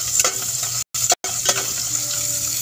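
Food sizzles and fries in a pan, apparently noodles with sardines, with stirring scrapes and a steady close crackle, broken by two brief silent gaps and no talking.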